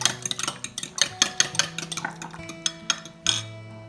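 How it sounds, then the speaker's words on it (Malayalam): Melted butter and an egg are beaten by hand in a bowl for donut dough, a quick irregular series of sharp clinks and scrapes from utensil against the bowl, close and clear. "ഒന്ന് പതിയെ ബീറ്റ് ചെയ്ത് കൊടുക്കുക."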